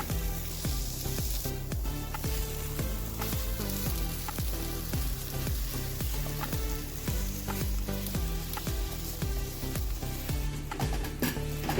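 Fresh pitted dates cook in a pan over a low flame, giving a soft, steady sizzle with faint stirring scrapes repeating throughout.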